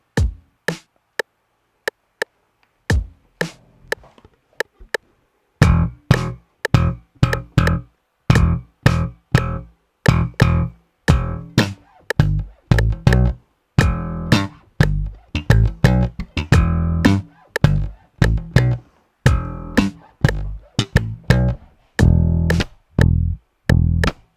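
Dingwall bass guitar playing a groove in a 3, 3, 4, 2, 4 grouping, without kick or snare: sparse plucked notes at first, then a steady run of short, punchy notes in repeating uneven groups, close and alone.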